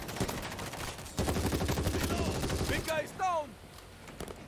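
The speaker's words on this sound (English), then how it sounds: "It's a powerful gun." Rapid gunfire from a tier 3 gun in the zombie shooter World War Z, a steady burst of repeated shots for a couple of seconds, with a voice talking over the end.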